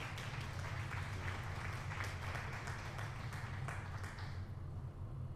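Faint, continuous applause from an audience, a dense wash of clapping that fades slightly toward the end.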